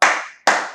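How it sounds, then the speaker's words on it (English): Two sharp, loud claps from children doing the laugh clap in a music and movement session for kids, each ringing out and fading over about half a second, with a brief gap between them. "So give yourself the laugh clap."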